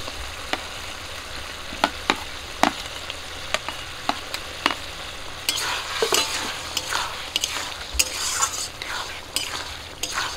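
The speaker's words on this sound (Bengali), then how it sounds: "তো এই সময় আমি আলুটা দিয়ে দেবো ভেজে রাখা।" A spoon stirs fried potatoes through a simmering spice masala in a home kitchen, with steady sizzling underneath and repeated sharp scrapes and clinks against the pan.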